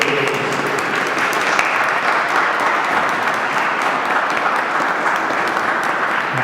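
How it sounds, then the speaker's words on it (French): Loud, dense clapping from the audience at a Catholic culture conference, sustained evenly and close, with no voices over it. "avec un applaudissement pour les remercier de cette"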